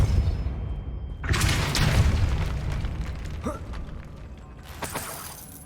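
The Depulso spell cast in Hogwarts Legacy makes a sudden burst of whooshing, rumbling force, followed by creaking and mechanical clatter, then a second bright burst near the end. No one speaks.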